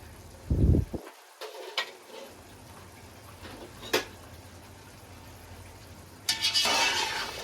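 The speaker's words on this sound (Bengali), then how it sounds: "এবার নাড়িয়ে নেব একটু ভালো করে।" Goat head bhuna with mung dal stirred in a large pot over low heat, a few soft knocks and scrapes followed near the end by a louder burst of sizzling, nearby and without voices.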